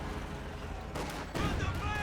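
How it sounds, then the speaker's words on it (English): Artillery fire in the real-time strategy game Company of Heroes 2, two loud booming impacts arriving in quick succession over a dense background of battle noise. "Artillery going down there, not quite hitting anything."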